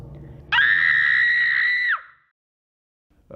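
A woman's single loud, sustained high-pitched scream lasting about a second and a half, close and piercing, cutting off abruptly into silence.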